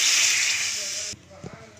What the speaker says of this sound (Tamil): தண்ணி கொதிக்குது.